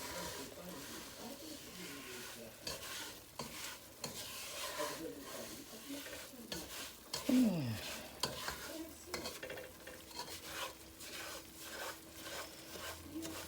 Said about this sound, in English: And you're going to hear this sizzling.